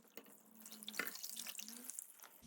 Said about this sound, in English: Then again, I'll just add some water.